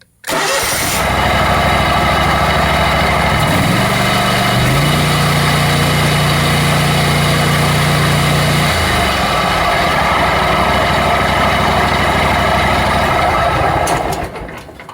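A lawn mower engine cranks and catches, then runs at a loud, steady idle close by for most of the stretch and shifts pitch once midway while its charging system is tested.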